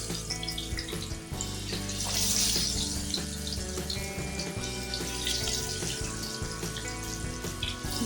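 Potato pakora sticks coated in gram flour batter fry in hot oil, giving a loud, dense, continuous sizzle and bubbling close by that lasts the whole stretch.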